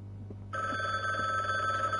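A telephone rings in the video game The Bookwalker, a steady electronic bell tone that starts abruptly after a short quiet moment and holds continuously, fairly soft over a low background hum.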